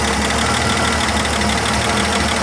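A truck's 261 engine idles rough and knocking, a dense continuous rattle and rumble that stays loud and close for the whole stretch with no talk.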